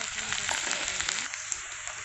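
Onions fry lightly in a pan for Bengali ghugni, a steady soft sizzle with faint crackles and a quiet stirring scrape, continuous and close.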